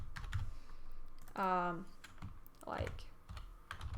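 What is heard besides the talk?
typing on a computer keyboard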